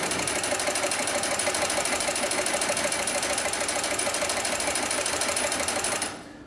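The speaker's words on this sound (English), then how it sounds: "And now we'll sew forward again." A heavy-duty industrial sewing machine stitches forward through thick webbing sling material, a loud, steady rapid mechanical chatter running continuously before stopping abruptly near the end.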